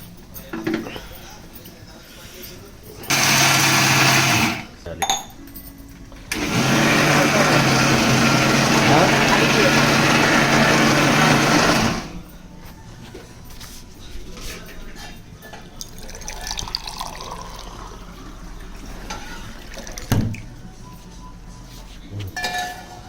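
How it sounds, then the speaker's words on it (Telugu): A kitchen mixer grinder whirs loudly in two close bursts, a short pulse followed by a longer grind of several seconds, blending roasted peanuts with green chillies, with quieter clinks and muffled voices in the gaps. "ఇచ్చిన మన పల్లీలు ఇలా మన మిక్సీలో వేసుకొని మళ్ళీ 2-3 పచ్చిమిర్చీలు"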